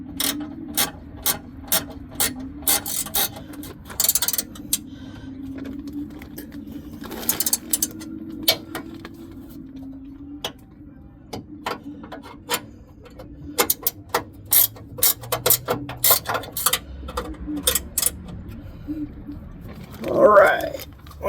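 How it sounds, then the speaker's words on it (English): Repeated sharp metallic clicks of an open-end wrench tightening tow bar bolts, a steady run of close taps and ratcheting ticks over a low background hum. "So I'm gonna have to get an open end wrench."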